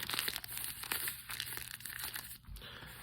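Paper being crumpled into a ball to form a papier-mâché rock, a dense, continuous crackling and crinkling that rustles unevenly with small crunchy peaks, held close and fairly quiet with no voices.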